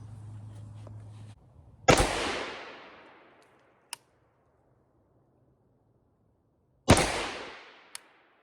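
Two sharp, loud rifle shots about five seconds apart from a Pioneer Arms 5.56 rifle firing PMC X-Tac 62 grain M855 at an outdoor range, each cracking and then echoing away, with a faint metallic click after each.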